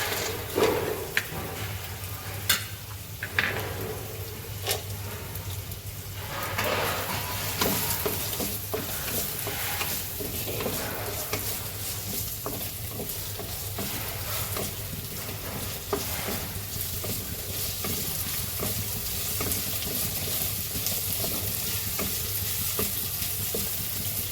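Cashews and raisins fry in a pan of hot fat for a Gujarati lilva kachori filling, giving a continuous close sizzle broken by scraping, stirring clatter, with no talking.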